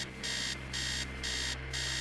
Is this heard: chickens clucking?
no